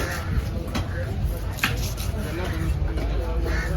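A knife cutting Vanjaram fish at a Kasimedu fish market, sharp chopping strikes landing at uneven intervals over steady market background noise and voices.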